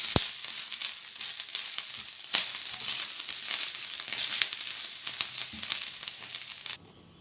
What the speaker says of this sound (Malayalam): അപ്പോൾ നമ്മുടെ തേങ്ങ വറുക്കൽ കഴിഞ്ഞു